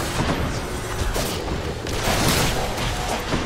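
Explosion in the video game Hades, a loud, dense burst of booming blasts and crackling impacts layered over the game's music, sustained across the whole moment.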